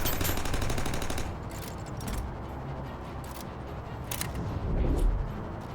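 Rapid gunfire in the sci-fi noir game Aether & Iron, sharp bursts of shots crackling in clusters over a steady low engine rumble, fairly loud and close with no talk.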